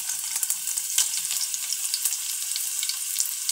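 Garlic fries in a pan, a close, steady crackling sizzle with scattered sharp pops throughout and no voices.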